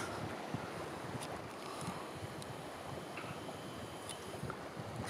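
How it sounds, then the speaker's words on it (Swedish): Gusty wind buffets tents on a lakeshore in the Swedish archipelago, a steady broadband roar with fluctuating gusts, close to the microphone, and no talking. "Och då blev det helt plötsligt ganska blåsigt här nere vid tälten."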